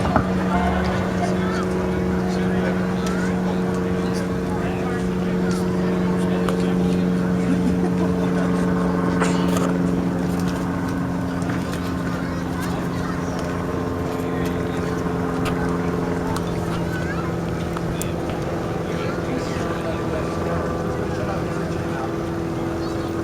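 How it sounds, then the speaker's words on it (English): A steady, droning aerobatic airplane engine roar holds for the whole stretch, loud and continuous with a low tonal hum. "We'll listen to hear that power come off that airplane."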